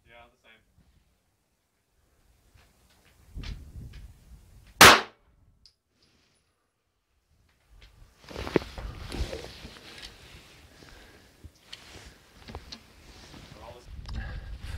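One sharp, loud gunshot from a handloaded round with a Lehigh bullet cracks out alone, followed by quieter handling noise and voices talking.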